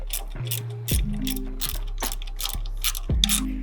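A socket ratchet tightens bull bar bolts in rapid bursts of close, sharp clicking, several short runs of ratcheting separated by brief pauses.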